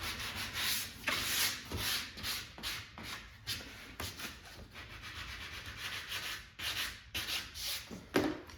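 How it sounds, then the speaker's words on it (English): Sandpaper of 180 grit rubs back and forth along a bevelled wood edge in steady, close strokes with a dry, scratchy texture, fairly quiet and alone. "Hit it with some 180 grit."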